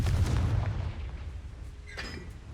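A Confringo fire spell cast in the video game Hogwarts Legacy, a deep booming blast at the start that rolls and fades over a couple of seconds, with faint magical chimes near the end.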